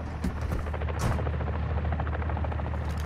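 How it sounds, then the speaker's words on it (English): A heavy helicopter in the Call of Duty video game thrums loudly with a rapid steady rotor pulse, mixed with bursts of gunfire sound. "Chopper's right there, it looks like."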